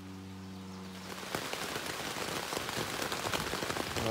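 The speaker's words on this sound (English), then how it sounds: "it's starting to rain" Rain at a campsite on the Appalachian Trail in New Jersey begins pattering on a tent, starting after a brief low hum and swelling into a dense, steady patter of drops up close.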